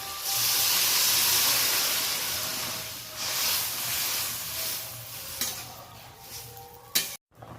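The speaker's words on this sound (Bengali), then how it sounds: "জল গরম করে রেখেছিলাম, জল দিয়ে দিচ্ছি এবার।" Hot water poured into a simmering neem curry gives a broad hiss and sizzle that fades slowly, followed by a few stirring clatters near the end.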